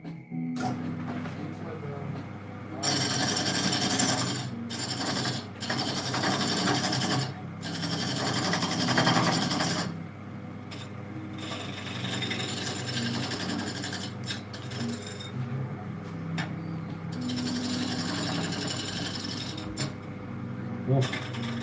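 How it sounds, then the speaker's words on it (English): Sanding wood to smooth out tear-out: rough, rasping strokes in uneven bursts with brief pauses, close and moderately loud over a low background hum, with no talk. "I do believe sanding will take care of that."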